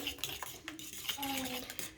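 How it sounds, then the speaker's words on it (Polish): Egg being stirred into mashed banana in a bowl with a utensil, a few quick clinking and scraping strokes against the dish, close and fairly quiet with no talking. "Rozmieszam to jajco z bananem."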